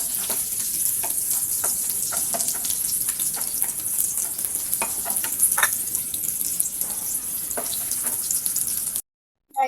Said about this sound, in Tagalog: nilagyan natin ng butter yung ating kawali. Ayan ang sibuyas bawang.